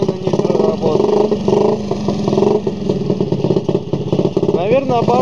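A trials motorcycle engine idles with raised revs during preparation, running close and loud with a lumpy, pulsing note and a rising rev near the end, while someone talks over it.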